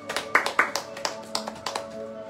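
A church congregation claps in a short burst of separate, uneven hand claps, close and fairly loud, with voices underneath.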